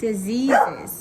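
A dog barks once or twice nearby, a short yelping sound overlapping a man's speech indoors.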